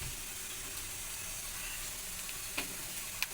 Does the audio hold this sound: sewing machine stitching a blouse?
no